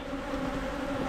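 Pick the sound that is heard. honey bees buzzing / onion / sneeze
honey bees buzzing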